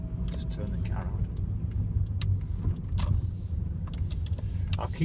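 A car idles with a steady low rumble after being switched on, close and continuous, with small clicks and rattles from inside the cabin and light talk over it.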